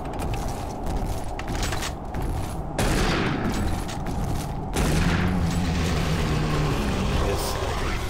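Chain gun fire in DOOM 3 BFG Edition on Xbox One, a sustained rattling barrage with mechanical whirring, loud and continuous, growing heavier partway through.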